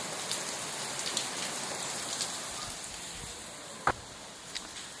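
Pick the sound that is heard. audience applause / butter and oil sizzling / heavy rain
heavy rain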